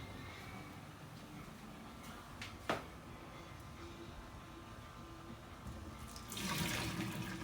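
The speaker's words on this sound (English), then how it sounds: "just strain off some of the water off of the saltfish" Water running and splashing in a kitchen sink as soaking water is strained off salted codfish for Jamaican ackee and saltfish, a steady close pour with a brief clatter midway and a louder gush near the end.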